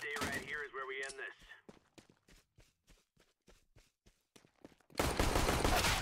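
Gunfire in Counter-Strike: Global Offensive, a fast series of sharp shots in short bursts, moderately faint, following speech at the start and giving way to a dense noisy burst at the end.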